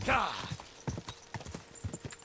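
Horse hooves clip-clop in Kingdom Come: Deliverance II, an even run of close, crisp hoof beats on firm ground, with a brief whinny-like sound at the start and speech over the game audio.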